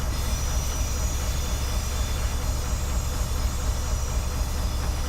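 A big train rumbles along steadily in Train Simulator's South Wales Coastal route near Wentloog, as a loud, continuous roar of engine and wheel noise with a high whine on top and no breaks.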